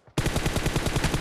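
Rapid automatic gunfire in PUBG Mobile, played on an iPhone 11 and a OnePlus 8T in a team deathmatch, bursts in loud and close after a brief quiet and keeps up a fast, steady stream of shots.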